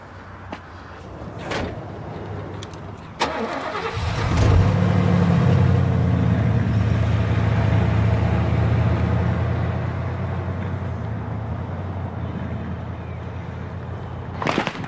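A pickup truck engine catches with a low rumble and settles into a steady, loud drone as the vehicle pulls away, heard close and without talk.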